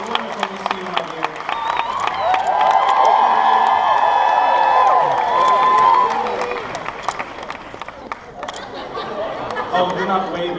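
An audience at the Minnie's Moonlit Madness 2017 event cheers and applauds for Minnie Mouse, a swelling burst of clapping and whoops rising under an amplified host's voice, then settling back to chatter and talk.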